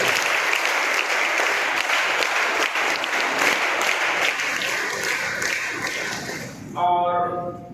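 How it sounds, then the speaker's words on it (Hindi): At a school Teachers Day event, an audience applauds teachers with sustained, dense clapping that tapers off near the end, where a brief musical tone cuts in. "तालियां बजाइए आप लोग"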